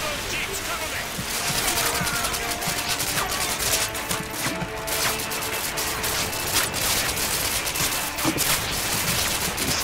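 Dense, continuous gunfire and explosions from the Modern Warfare 2 campaign video game fill the scene with loud rapid shots throughout, while a player talks over it.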